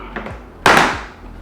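A sharp tearing rip bursts out as a sealed survival food pouch is pulled open, then fades over about a second with faint rustling.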